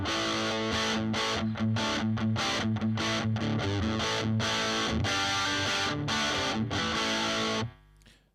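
Marshall JCM1C one-watt combo amp playing distorted electric guitar through its own small internal speaker: chugging rhythmic chords and riffs, loud and driven, ending abruptly with the last chord cut off.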